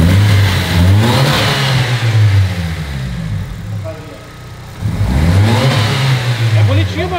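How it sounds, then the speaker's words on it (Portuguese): A Chevrolet Celta 1.0 car engine is revved twice, each rev climbing loudly from idle and falling back, with a quieter idle stretch between them. "Uma acelerada, pai, pra nós ver."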